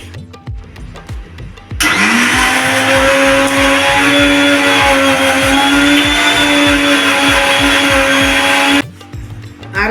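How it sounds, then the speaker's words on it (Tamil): A kitchen mixer grinder whirs loudly while blending grated coconut with tender coconut water, switching on abruptly, running at a steady high-pitched roar for about seven seconds, then cutting off, with quieter background noise before and after. "இதை மிக்சி ஜாரில் போட்டு அரைச்சி தேங்காய் பால் எடுத்துக்கலாம்."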